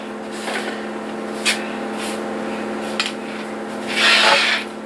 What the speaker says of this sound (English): Sweepy brush.